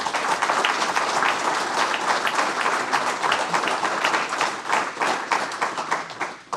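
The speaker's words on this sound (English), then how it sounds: "Round of applause, please." Sustained audience applause fills a fire rescue pinning ceremony, steady dense clapping from a crowd held at an even, fairly loud level throughout, with no voices standing out above it.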